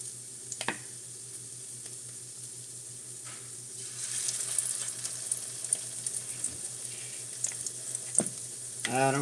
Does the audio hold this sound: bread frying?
yes